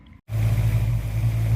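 A Ford Mustang engine cranks and fires up after a brief silence, then settles into a loud, steady idle with a deep low rumble that holds unbroken to the end.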